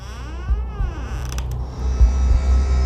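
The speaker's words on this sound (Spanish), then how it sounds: "Oímos un crujido en el piso." Floor creaking in a horror ghost story scene, a drawn-out wooden groan with a rising, wavering pitch, fairly close and alone over a low rumbling background.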